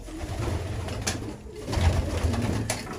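A caught runaway pigeon coos low and close in soft repeated murmurs over a faint background hiss, and no one speaks.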